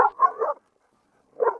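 A seven-month-old puppy gives two quick close barks, goes quiet for a moment, then barks once more.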